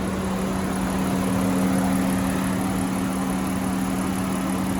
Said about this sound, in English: That engine's sounding smooth